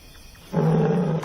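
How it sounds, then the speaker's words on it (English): A male lion lets out a single deep, rumbling roar at night, starting abruptly after a quiet moment and holding for under a second, heard alone against faint background noise. "Distant roars echo through the cool night air. Their male is calling"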